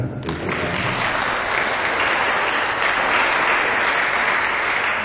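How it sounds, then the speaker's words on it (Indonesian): Sustained audience applause from students at a youth education event in Karimun, a dense steady roar of clapping beginning abruptly and holding loud for several seconds without talk. "Beri tepukan."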